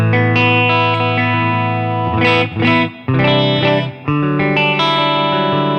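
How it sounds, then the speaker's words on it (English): Clean electric guitar chords ring out through a Fender Deluxe amp on the normal channel with a springy, splashy spring reverb tail, played steadily and loud with no voices. "this first one is a Fender Deluxe, just on the normal channel with a springy reverb."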